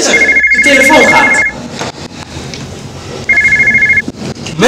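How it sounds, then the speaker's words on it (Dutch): A telephone rings loudly in two bursts of a rapid electronic trill separated by a pause, with voices talking over and between the rings. "De telefoon gaat."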